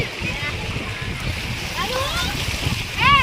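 Water splashing and sloshing continuously, with a voice briefly audible over the watery noise near the end.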